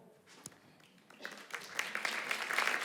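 Applause from an audience at a theatre accessibility event starts faint and scattered, then builds into steady clapping.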